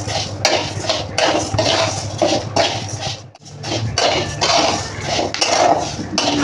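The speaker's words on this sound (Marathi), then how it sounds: "आता ह्यात मी थोडासा ओवा टाकून घेते भाजत आले" A spoon stirs and scrapes mixed grains, rice and lentils with ajwain as they roast in a pan, producing close, repeated clinks and scraping strokes with a brief pause midway.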